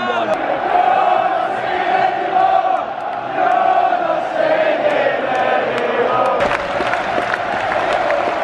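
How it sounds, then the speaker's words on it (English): A large crowd of Shrewsbury football fans chants and roars continuously in a stadium at a League One play-off final, loud and echoing, with occasional claps and shouts standing out from the mass of voices. "Very loud Salop fans over there."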